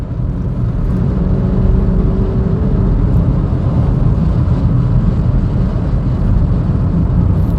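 An Astra G car gathers speed on the road, a steady, loud engine drone and road roar heard from inside, building gently without sharp revs.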